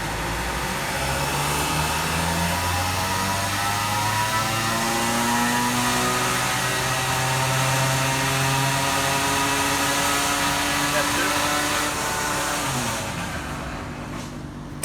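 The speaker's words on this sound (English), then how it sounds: "Start dyno pull. Are you ready? F1. Oh, wait. Alright, F1. Full throttle." An engine roars at full throttle on a dyno, a loud, sustained drone that climbs steadily in pitch before dropping off near the end, with no voices over it.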